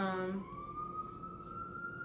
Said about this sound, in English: And the sirens.